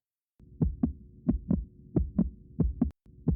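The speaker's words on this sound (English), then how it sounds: "that is the familiar sound of a mouse's heart beating furiously, wildly, madly" In the video game Blanket Cat, a mouse's heart beats fast and hard as a looping double-thump pulse, low and booming, repeating in quick pairs after a brief silent start and cutting out for an instant near the end.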